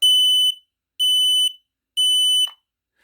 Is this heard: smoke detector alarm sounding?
yes